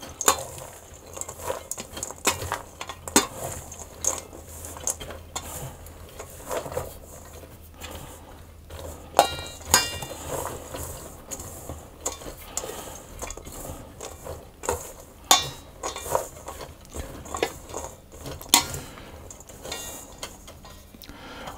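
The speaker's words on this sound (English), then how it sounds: "I'll just give those a stir around as well." A spoon stirs mixed peel and dried fruits in a bowl for a Scottish black bun cake, a steady run of soft scraping and light clinking taps repeating close by, with no talking.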